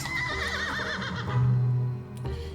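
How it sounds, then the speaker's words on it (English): Horses neigh and whinny in the video game The Life and Suffering of Sir Brante, a wavering cry followed by a lower snorting whinny, with faint hoof clops, clear and alone. "filling your ears with clanging steel and the neighing of horses"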